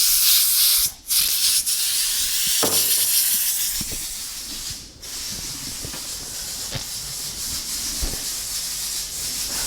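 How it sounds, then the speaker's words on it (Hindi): A pressure cooker chilled with liquid nitrogen giving off a continuous loud, harsh steam hiss, with brief dips and occasional faint knocks throughout. "ठंडा ठंडा कुकर है लेकिन सीटी बजा रहा है"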